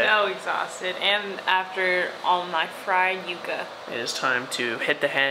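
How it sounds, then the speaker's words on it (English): A steady whirring hiss of an electric fan runs underneath continuous close speech throughout. "Sorry about the fan sound."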